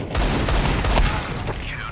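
Counter-Strike 2 gunfire pours out in loud, dense, rapid bursts that fill the whole two seconds, with a voice partly buried underneath.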